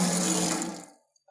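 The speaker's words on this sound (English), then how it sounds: "we've got straight flow out of the hose cock" Water gushes strongly from a garden tap hose cock fitted with a VacSnap attachment, a loud, close, broad rush that tapers off and stops within a second.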